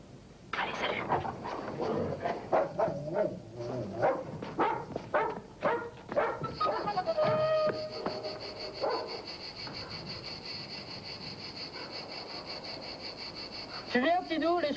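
Cafi, a dog at a horse show, gives a run of sharp barks and yips close by, with people talking around and an ongoing tonal hum afterward.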